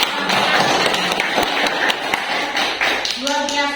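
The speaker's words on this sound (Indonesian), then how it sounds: "Ayo aplaus dulu" A crowd applauds throughout at an Indonesian community event on traditional sports, a dense steady patter of clapping, with a voice starting to speak over it near the end.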